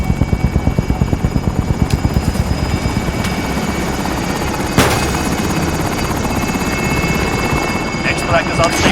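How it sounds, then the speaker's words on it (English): Helicopter arriving for extraction in the Call of Duty: Warzone video game, a loud steady rotor thump with a rhythmic chop that blends into a continuous engine drone, close and dominant. "There's a helicopter here."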